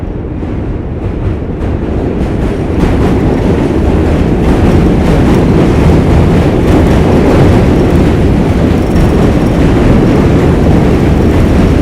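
A New York City subway train roars steadily throughout, loud and close with rumbling low end and rattling wheel clatter as it runs along the track, with no voices.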